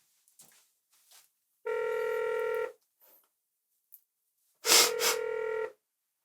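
Telephone ringing indoors: two clear electronic rings, each about a second long, separated by a short pause, loud and alone with no talk.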